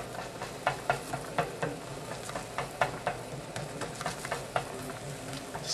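Rice flour pancake batter frying in a pan over medium heat, a steady sizzle broken by regular scraping or stirring strokes about twice a second, close and clear.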